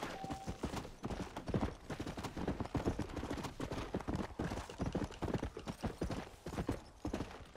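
Horse hooves galloping in the Red Dead Redemption Undead Nightmare video game, a steady fast rhythmic clatter of hoofbeats throughout, moderately close and without talk.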